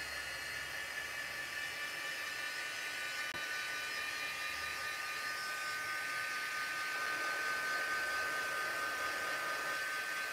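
A heat tool blasts air steadily over drying reusable craft stencils, a continuous whirring hiss that holds level and close for about ten seconds with no one talking.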